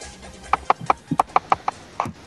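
Hooves of a horse galloping in a video game, a quick run of about ten sharp clip-clop hits in an uneven rhythm, close and fairly loud, with no talk over them.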